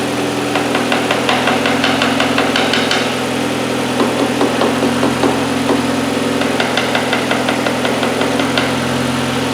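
Hyundai Elantra engine idling too high, a steady mid-pitched hum with light ticking and knocking patter running throughout, close and continuous with no talk.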